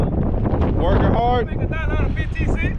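Steady, heavy wind buffets the microphone throughout at an outdoor dealer car auction, with a voice talking over the roar.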